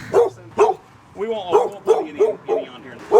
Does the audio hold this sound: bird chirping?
no